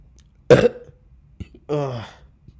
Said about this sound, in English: Sorry, I'm gonna burp.